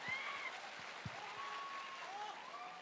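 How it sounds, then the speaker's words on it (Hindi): An audience claps steadily at a live stage event, a dense, continuous patter of applause with a few louder individual claps standing out near the front. "एक बार जोरदार तालियां और बजा लो"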